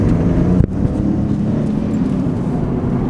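A 1998 Chevrolet Camaro with a 3.8 litre V6 and 4-speed automatic, engine running at a steady idle, a loud, close, continuous low rumble with one brief dip near the start.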